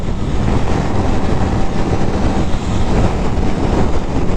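A loud, steady 2024 BMW S1000RR motorcycle engine roar with heavy wind rush, a continuous rumbling drone that holds at a constant level throughout.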